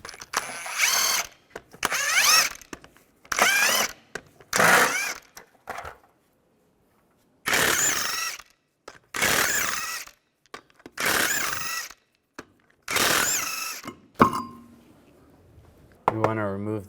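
Lug nuts on a 2005-2010 Chevrolet Cobalt wheel spun off by a power tool in repeated whirring bursts of about a second each, loud and close, separated by short pauses.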